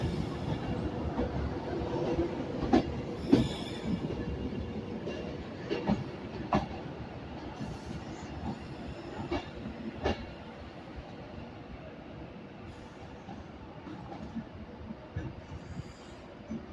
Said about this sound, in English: departing now is 390-127 from Edinburgh Waverley to London Euston via Birmingham New Street